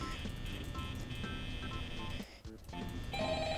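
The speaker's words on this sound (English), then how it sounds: "Can you answer the phone call?" A telephone rings in the office of the Lego Fnaf 1 video game, a continuous loud electronic trill with a short gap before it resumes.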